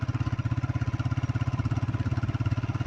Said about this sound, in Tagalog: Lubak-lubak po ang daan at magalaw yung ating sinasakyang motor.